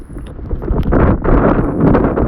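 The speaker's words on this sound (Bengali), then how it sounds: "বাতাসের গতি তুফান ছেড়ে দিছে" Strong storm wind roaring loudly against the microphone in gusty, continuous bursts during a brief spell of stormy weather.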